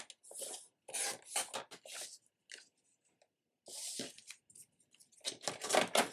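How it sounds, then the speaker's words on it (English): Scissors snip and rasp through a Dollar Tree mini tablet cover as it is trimmed to size with a narrow border, in short bursts of cutting separated by pauses, close and fairly quiet. "I'm gonna trim it, leaving that 1/8 of an inch border"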